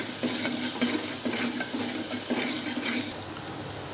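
A spoon stirs curry with ginger paste in a hot pan, scraping steadily against a soft sizzle for about three seconds before easing off; no one speaks.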